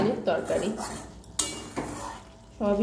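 A spoon stirs soybean curry in a metal cooking pot, making repeated clinking and scraping with a soft sizzle underneath. It is close and continuous, with brief metallic knocks.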